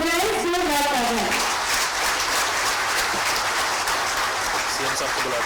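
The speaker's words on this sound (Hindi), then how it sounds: "तो एक बार आप सबके लिए हो जाए जोरदार तालियां।" Loud, dense applause from a crowd at a government appointment-letter ceremony, a sustained wash of clapping that starts under a fading spoken voice and then fills the space alone.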